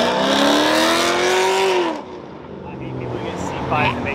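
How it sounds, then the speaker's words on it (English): A loud lifted truck engine revs close by at a car meet, its pitch climbing steadily before dropping away to a lower idle rumble. "The big boys in the lifted trucks are pulling up."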